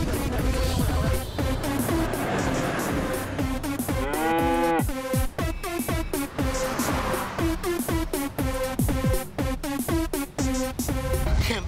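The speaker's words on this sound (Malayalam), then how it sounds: "നമ്മുടെ പശു." A cow moos loudly and at length, several long drawn-out lowing calls close by, filling the scene with little else audible.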